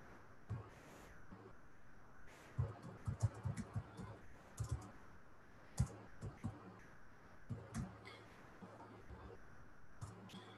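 Someone types a message on a computer keyboard, producing faint, irregular clusters of soft key clicks at a close distance, sometimes with a little low speech.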